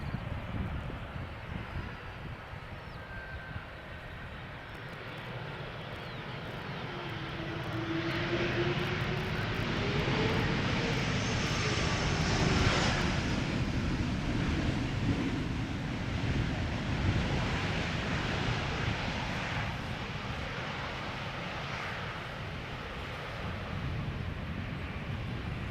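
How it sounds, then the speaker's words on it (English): An Embraer E2 jet arriving at Schiphol from Berlin drones in from a distance, its engine roar swelling to a broad peak mid-clip and then slowly fading, heard outdoors over steady wind. "Next up is an E2 Embraer arriving from Berlin."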